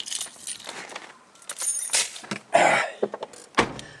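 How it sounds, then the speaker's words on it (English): A set of keys jangles on the floor in an alley-gate fitting job, giving bright metallic clinks and rattles in several bursts between quieter handling noises. "there's the keys on the floor"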